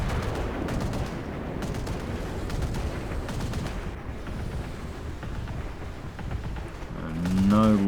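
Tank cannon and gunfire from an AMX-30 in the War Thunder video game, dense broadband battle noise throughout with bursts of shots, rising louder near the end, with a voice speaking over it.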